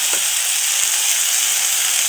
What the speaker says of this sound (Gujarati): હવે આપણે નાખશું મરચું